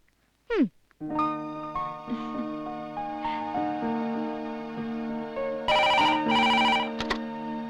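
A telephone rings with a melodic electronic ringtone, a sequence of bright tonal notes, after a brief sliding chirp at the start, in a Malayalam movie scene.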